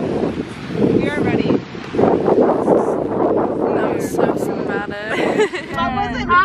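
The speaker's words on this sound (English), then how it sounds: "It's a little windy." Gusty seaside wind on Cape Cod buffets the microphone in loud rumbling bursts while several people talk nearby.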